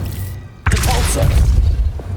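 In Hogwarts Legacy, the Depulso spell is cast with a sudden heavy boom after a short quiet lead-in, followed by a dense crackling, rumbling wash that lingers close and loud for over a second.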